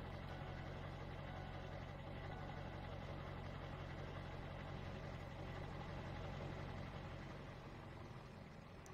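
A 7.3 Powerstroke truck engine idles while warming up in Farming Simulator, a steady, loud, even drone that holds throughout and eases slightly near the end.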